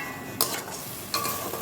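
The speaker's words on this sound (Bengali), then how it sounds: "দিয়ে এবার মশলাটাকে একটু কষিয়ে নিতে হবে" Spice paste sautéing in a pan with a little water for a lote fish bhujia, a steady low sizzle broken by two brief scraping stirs close by.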